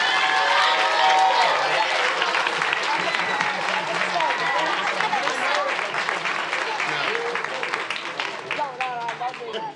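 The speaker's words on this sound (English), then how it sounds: "let's give them one more really big round of applause" A large audience at a swim team's end-of-season awards ceremony applauds loudly and steadily for several seconds, with cheers and voices mixed into the clapping as it slowly fades.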